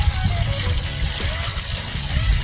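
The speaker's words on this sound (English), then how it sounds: "Sluice seems to be running good." Water rushing steadily through a gold prospecting sluice box on a river, a continuous close gurgling wash with no pauses.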